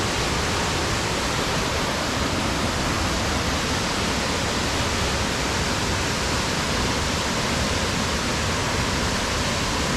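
A waterfall at Finch Hatton Gorge, water falling from the range near Mount Dalrymple, roars as a loud, steady broadband rush that fills the whole stretch with no voices over it.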